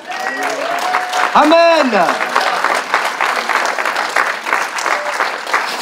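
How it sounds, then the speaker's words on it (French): Church congregation applauding in a sustained burst, with a voice calling out over the clapping and a brief sung or shouted phrase in the middle. "on peut applaudir Jésus"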